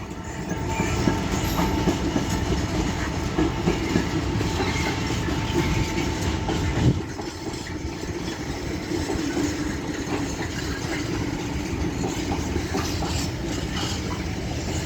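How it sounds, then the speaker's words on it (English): A freight train headed by locomotives 66517 and 66536 rolls past at Doncaster on the East Coast Main Line, a loud continuous rumble and clatter of wagons that eases slightly partway through, with no voices. "over here is the first freight train of the day, 66517 and 66536, running from Felixstowe to Leeds"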